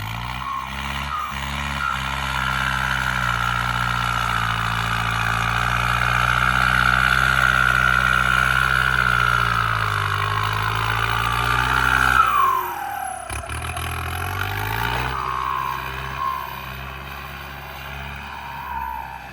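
An Isuzu MU-7 fitted with a big turbo runs loud and close in a steady droning note that rises, dips sharply, then settles back.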